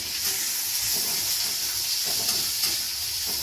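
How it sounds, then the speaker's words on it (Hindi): Okra (bhindi) sizzles and fries steadily in a pan, giving a continuous, fairly loud hiss with faint stirring clicks and no talking. "उसके बाद इसमें मेरी भिंडी फ्राई हो रही है"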